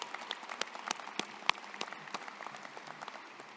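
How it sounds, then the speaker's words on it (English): Applause at a 2021 Central High School graduation ceremony honoring parents, families and guardians: scattered, fairly faint hand claps from a distant audience, irregular and thinning out over a few seconds. "let's give our parents and family and guardians a round of applause"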